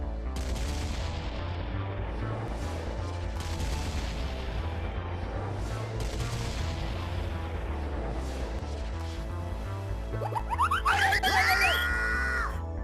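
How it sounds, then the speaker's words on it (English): Cartoon gunfire erupts from a pirate ship as the crew shoots at Peter Pan: dense, continuous volleys of booming cannon and rifle shots for most of the stretch, ending in a whistling, bright burst of effects near the close, with no talking. "Everyone ran around the ship, firing, trying to shoot Peter Pan."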